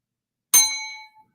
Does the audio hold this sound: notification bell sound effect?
yes